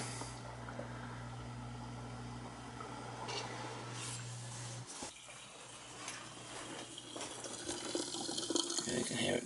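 Water draining from a newly installed dishwasher after its cycle is cancelled, a steady low rush and gurgle running throughout, with a motor hum in the first half that cuts off midway and brief speech over it.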